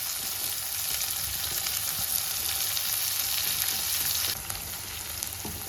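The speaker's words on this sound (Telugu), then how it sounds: "తాలింపు వేగిందండి. ఇప్పుడు ఆనియన్స్ వేసేసుకుందాము." Onions dropped into hot oil tempering for gongura pickle, a loud dense sizzle crackling continuously up close, easing slightly toward the end.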